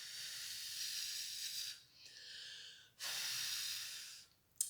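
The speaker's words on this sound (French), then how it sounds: "on souffle sur le voile" Breath is blown onto a light veil in a music-awakening breathing exercise: two long, soft, airy hisses with a brief whistly exhale between them, quiet and close.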